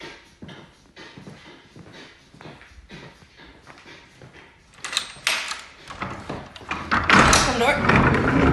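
People talk while an apartment door is pushed shut, a couple of heavy thuds and rattles growing louder toward the end.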